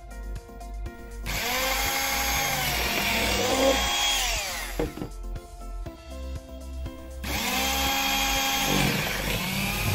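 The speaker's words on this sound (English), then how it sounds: "razor electro-powered shears Optima 702 is designed to cut any kind of industrial textiles and elastomers up to 15 millimeters thickness" Optima 702 electric shears cutting industrial textiles: a loud, whining motor buzz in two long runs separated by a brief drop and sputter, close and steady, with no speech.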